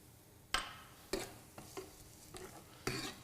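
Garlic goes into a paella pan already sizzling with chorizo and artichoke, a faint, low frying hiss broken by several sharp stirring scrapes and taps of a utensil against the pan.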